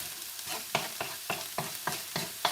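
Chili ingredients are stirred in a pot with a spoon, giving about eight rhythmic scraping strokes at an even pace, close and fairly faint, with a soft sizzle underneath and no voices.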